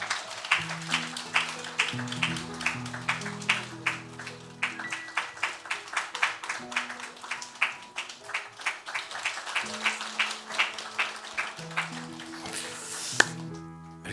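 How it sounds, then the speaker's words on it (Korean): During a Sunday morning church service, the congregation claps together in a steady rhythmic beat over soft sustained keyboard chords, with sharp, evenly spaced claps running the whole length and no speech over them. "박수 한번 하겠습니다"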